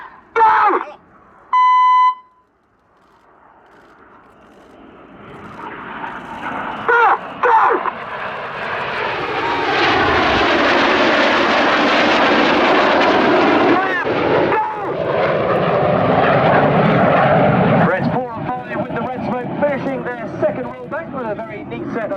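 Military display jets flying a synchronized high-speed pass at the Yeovilton Air Day airshow: short beeps open, then a roar swells over several seconds to a loud, broad peak and fades, with a commentator's voice heard at times.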